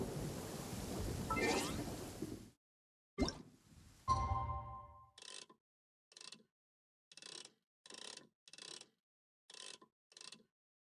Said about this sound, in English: It always rains when I go on an